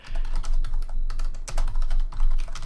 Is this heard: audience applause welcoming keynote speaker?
no